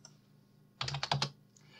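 Keys on a computer keyboard are pressed in a quick cluster of four or five close, crisp clicks, heard alone against a quiet room.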